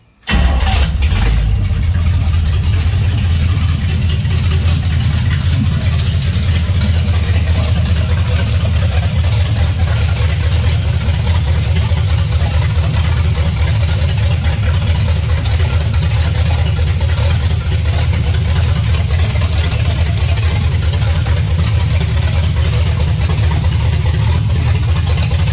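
1972 GMC truck engine catching and then settling into a steady, loud rumbling idle, running continuously without throttle blips; close and constant, no talk.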